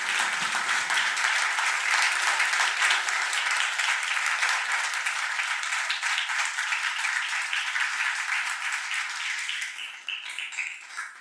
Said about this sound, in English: I really would just love to have a round of applause for those 3L members of our boards